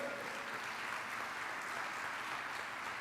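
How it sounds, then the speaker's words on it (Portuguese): Church congregation applauding for Jesus during a family worship service, a dense, even wash of clapping, fairly faint and unbroken from start to finish. "Dá um glória a Deus e um aplauso para Jesus"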